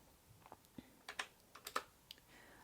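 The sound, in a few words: typing on a computer keyboard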